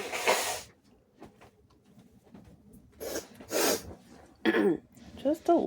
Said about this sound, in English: Just a little sniffle.